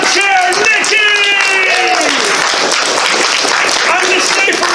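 Loud, sustained clapping fills a furry convention hall, with a crowd cheering and voices shouting through the dense applause.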